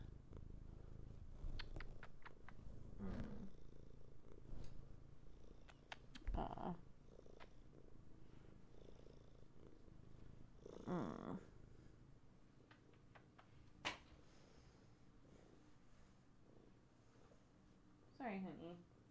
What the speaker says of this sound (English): Listen to those chunky purrs.